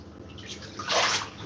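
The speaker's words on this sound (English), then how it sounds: "And the tub has hot water coming out of it." Hot water gushing from a tap into a bathtub, a steady close rush that swells louder toward the end, alone without speech.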